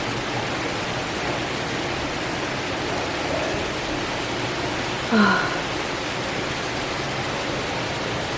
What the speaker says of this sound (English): it's currently raining, so I don't know if you guys can hear that.